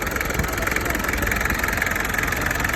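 Old-model Isuzu 4DR5 diesel engine idling steadily, a continuous low mechanical rumble with a faint ticking texture, close and fairly loud throughout, with no voices over it.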